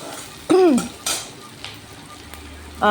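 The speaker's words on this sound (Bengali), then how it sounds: "আর এখানে আমি আলু দিয়ে দিলাম আলুগুলো প্রথমে ভালো করে ভেজে নিতে হবে" Potatoes are dropped into a pan of vegetarian ghugni to fry, with a short squeaky scrape, a metallic clatter of utensil on pan, and a low sizzle, close and fairly loud.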